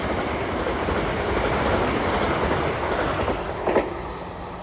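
The Delhi Amritsar Vande Bharat Express rushes past close by at speed, a loud, steady roar of rolling wheels and rushing air with brief rail clatter near the end.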